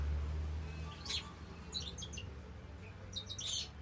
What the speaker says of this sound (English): I'm in my aviary at the moment with one of my little baby doves.